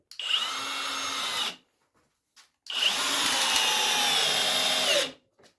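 Yato YT-82797 cordless drill driving a 10 cm long, 10 mm thick screw: two loud, close bursts of motor whine, one short and one longer, separated by a brief pause, with no talking.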